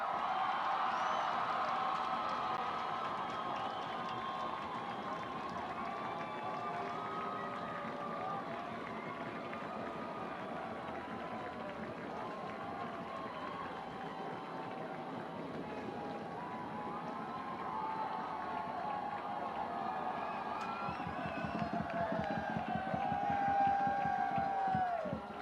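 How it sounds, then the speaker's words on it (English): Fans fill a soccer stadium at the 2016 WCC men's championship, Portland against Saint Mary's, with a broad, steady roar of crowd noise that swells slightly toward the end. Cheering and scattered clapping sit under a loud public-address ambience. "Let's give the players a round of applause."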